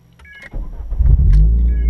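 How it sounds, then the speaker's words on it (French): A parked car's engine cranks after a brief quiet moment with a soft electronic chime, catches and rises into a loud, steady low idle rumble close by. "Je vais allumer la voiture pour vous montrer tout ça."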